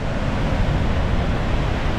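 Roaring wall of falling water at Victoria Falls in Zimbabwe, a loud, continuous broadband rush close by with spray-laden wind noise and no voices.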